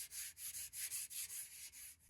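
Rhythmic strokes of sandpaper rubbing back and forth by hand over a sprayed finish, close and steady, about a dozen passes with no talking.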